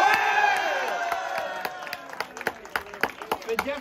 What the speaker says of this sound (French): on pourrait croire que vous applaudissez Jean-Michel Blanquer